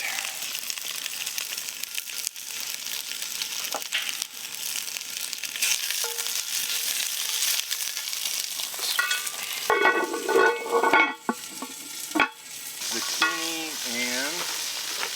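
Sausages frying in a pan at a campsite, a continuous close sizzle with crinkling and scraping from turning them, some louder clattering bursts toward the end, with no voices.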